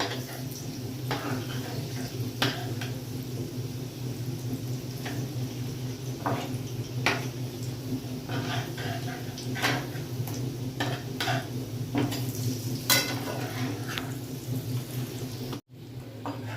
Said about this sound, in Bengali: এরকম আস্তে আস্তে এবার সব কটাকেই আমি উল্টে দেবো যাতে উল্টো দিকের পিঠটাও ভাজা হয়ে যায়